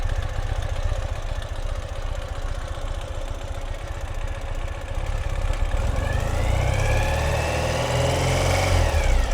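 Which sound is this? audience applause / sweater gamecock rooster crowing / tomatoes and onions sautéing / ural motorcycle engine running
ural motorcycle engine running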